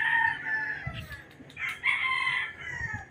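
A gamecock rooster crows nearby in a couple of drawn-out calls, with other fowl crowing and clucking faintly in the background.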